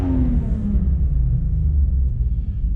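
A faulty car turbocharger heard from inside a fully closed car gives a low, droning rumble with a faint whine that slides downward in pitch, steady and close for a few seconds.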